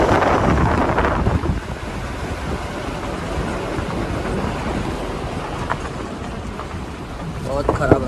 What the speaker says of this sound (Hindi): और यहाँ से पानी जा रहा है